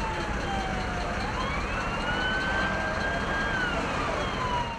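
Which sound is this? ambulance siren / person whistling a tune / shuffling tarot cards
ambulance siren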